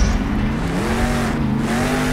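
The El Toro Loco Ice monster truck's engine drones loudly and continuously in Monster Jam Steel Titans, a steady tone rising slightly in pitch over a dense, roaring background.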